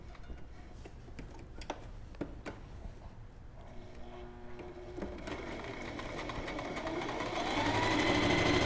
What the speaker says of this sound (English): I'm going to put it into my machine and sew a straight stitch down the length of it